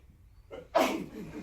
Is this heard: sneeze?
yes